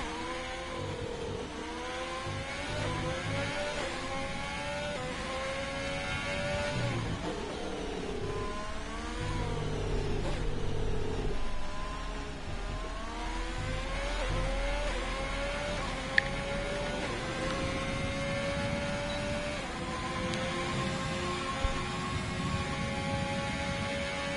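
A race car engine revs and whines through gear changes on a flying lap, a loud steady rising and falling drone heard from onboard, with no talking.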